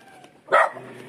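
A dog gives a single loud, close bark at a rural Filipino home, standing out against quiet background noise.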